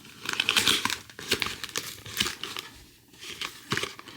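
Plastic packaging from a convenience-store gacha prize is opened by hand, with close crinkling and crackling bursts and a few short tearing sounds coming in an uneven sequence, without any speech.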